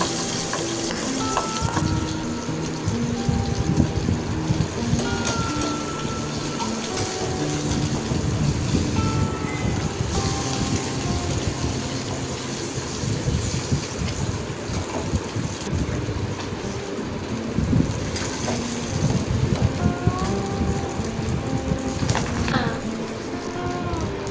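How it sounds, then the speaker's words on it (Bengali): Pabda fish fry in hot mustard oil for a Bengali curry, a continuous close sizzle and spatter that carries on throughout, with faint background sounds underneath. "পাবদা মাছ দিয়ে ভালো করে এপিট ওপিট করে কড়া করে ভেজে নেব।"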